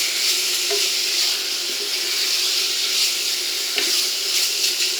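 Chicken pieces browning in a frying pan for a beer chicken blanquette, a dense, close sizzle with occasional light scrapes of stirring, steady and uninterrupted for a few seconds.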